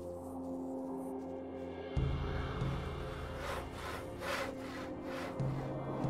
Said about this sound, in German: Was sägt denn der hier?